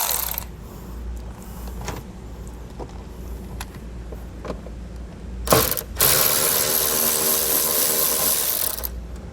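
Hand work with a 7mm socket on an extension, taking out small screws during a brake controller install on a 2016 Jeep Grand Cherokee: scattered small metallic clicks and ratchet ticks. A louder burst of scraping and rustling comes near the end.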